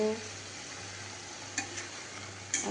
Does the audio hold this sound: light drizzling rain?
no